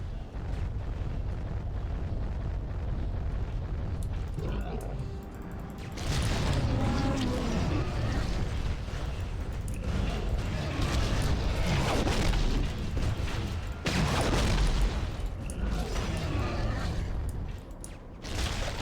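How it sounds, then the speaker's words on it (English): A missile-lockdown warning in the game Giants: Citizen Kabuto plays as a loud, rumbling, explosive roar that swells in heavy surges over a continuous low drone, with dull blasts mixed in. "the game figured that's the most appropriate sound effect to play when you're under missile lockdown"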